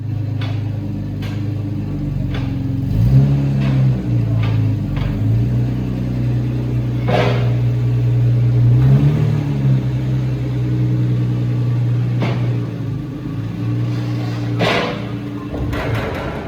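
A 1968 Jaguar 340 classic saloon's engine running low and steady before driving off, with a deep rumble that swells briefly and several sharp knocks and clicks layered over it.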